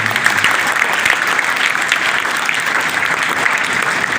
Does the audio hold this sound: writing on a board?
no